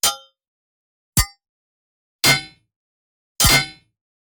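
Four sharp metallic clang hits of a claw weapon, spaced about a second apart, each with a quick scraping smear; the later ones are broader and fuller.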